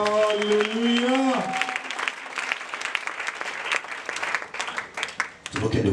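Loud applause and cheering from a church congregation fill the space, dense and sustained, with a voice or music tones at the start before the clapping takes over.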